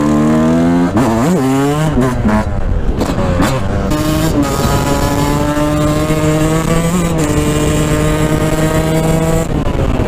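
A supermoto motorcycle engine revs and rises in pitch, then settles into a steady, loud drone as the bike rides along in cold weather, close by with no talk.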